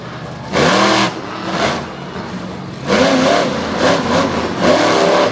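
A monster truck engine revs repeatedly at a freestyle monster truck show, with loud rising roars that drop back to idle between bursts, heard from the stands.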